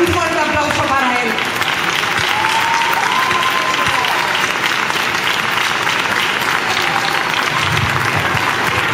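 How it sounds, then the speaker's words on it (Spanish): A large crowd at a town's patron saint festival gives a loud, sustained round of applause and cheering for the mayor, with a few voices and whistles rising over the dense clapping. "un fuerte aplauso para él"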